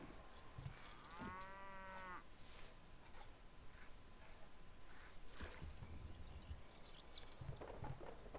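Cattle in the medieval strategy video game Stronghold HD give a single long, low moo lasting about a second, set in a dense hiss of game ambience with faint scattered clicks and distant bumps, no voices.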